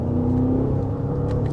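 An Audi SQ8 twin-turbo V8 pulls hard under acceleration, a loud, dense rumble with a rising whirring tone, steady and close for the whole moment, no speech.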